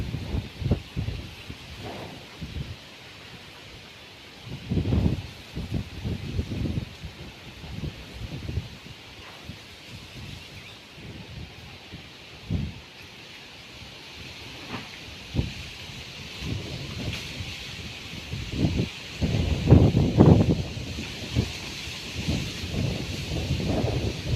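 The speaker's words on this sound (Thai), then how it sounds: "ดูลมพัดเมฆไปแล้วก้อนเมฆก้อนใหญ่เบ้อเร่อ" Strong gusty wind ahead of rain over sugarcane fields, rushing and buffeting the microphone in irregular surges that peak sharply near the end, loud and with no talking.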